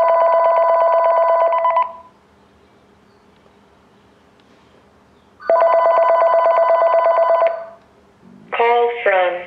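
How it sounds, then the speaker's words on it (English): A Panasonic 5.8GHz cordless phone rings twice in electronic trills, each burst lasting about two seconds with a quiet pause between, followed by a brief rising tone. "Phone ringing."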